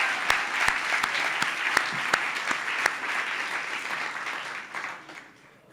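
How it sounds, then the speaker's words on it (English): An audience gives a round of applause for earlier speakers at a talk, with a few sharp close claps standing out from the crowd's steady clapping before it fades away at the end. "can we just do a quick round of applause for the speakers that came before us?"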